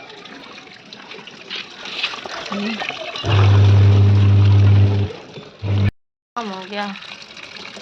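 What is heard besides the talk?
water filling for washing machine laundry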